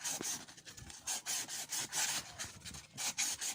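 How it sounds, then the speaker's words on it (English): Hand sanding with 400 grit sandpaper on an RCA Victor 45 record changer part gives close, soft rasping strokes in a quick back-and-forth rhythm, alone and fairly faint. "I'm using here a 400 grit sandpaper"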